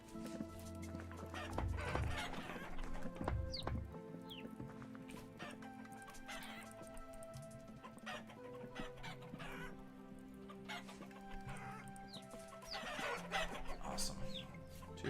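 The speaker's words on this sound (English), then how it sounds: "Go ahead and feed the chickens." Chickens cluck in a primitive survival homesteading game set on a farm, with short clucks scattered over a steady layer of game music and ambient tones.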